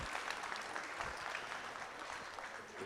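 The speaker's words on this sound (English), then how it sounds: "give them a nice round of applause." An audience at the State Fair of Virginia market hog show gives a steady round of applause, many hands clapping evenly at a moderate distance.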